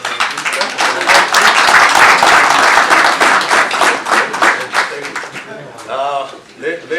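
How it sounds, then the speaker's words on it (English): Applause at a formal event announcing data tariff cuts, close and fairly loud clapping from a group that thins out toward the end as a voice starts speaking. "Maybe another round of applause for"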